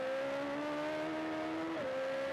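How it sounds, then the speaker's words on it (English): Suzuki 1500cc engine in a Radical SR3 race car screaming at high revs during a Clubman's Cup race at Donington Park, a sustained steady engine whine with a sharp pitch shift near the end as it shifts or brakes. "Suzuki 1500cc engine that powers the SR3 Radical working very hard indeed in the hands of Simon Fish"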